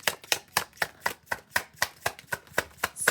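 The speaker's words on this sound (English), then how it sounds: "Gonna shuffle this and see what's going on." A deck of tarot cards is shuffled by hand, a quick, even series of about a dozen crisp, papery riffles close up, with no talking.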